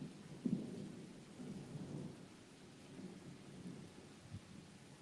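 Thunder during a thunderstorm rumbles low and distant in a long rolling swell, with a sharper crack near the start and steady rain hissing underneath throughout.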